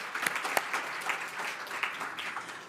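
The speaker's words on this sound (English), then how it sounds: "But, yeah, we could clap for that." An audience at an annual spring event applauds, a brief, fairly faint patter of many hands clapping with sharper individual claps standing out.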